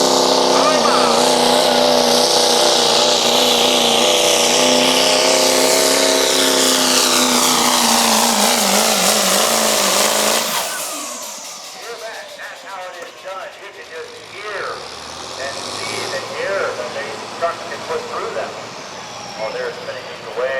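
Modified diesel truck engine revving hard at a diesel powerfest truck shootout, a loud sustained roar with shifting pitch for about ten seconds, then dropping to a lower rumble amid crowd and announcer noise.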